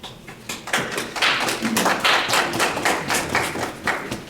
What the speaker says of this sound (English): Thank you, Council, for joining me in applauding them.